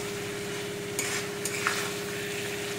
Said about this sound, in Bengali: এখন এটাকে একটু নাড়িয়ে চাড়িয়ে তেলের মধ্যে কষে